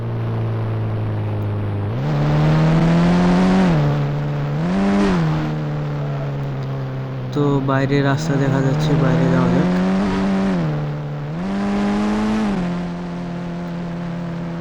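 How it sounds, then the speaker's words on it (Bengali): A car engine in the mobile game Indian Bike Driving 3D revs up and down several times in steady, smooth swells. A tire squeal and other game sounds come in midway. Someone talks over parts of it. "গাড়িটার আওয়াজটা কিন্তু অসাধারণ"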